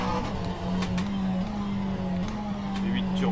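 Turbocharged V8 of a McLaren 650S GT3 race car in rFactor 2, a steady droning engine note held close and loud throughout, pitch shifting slightly as revs rise and settle.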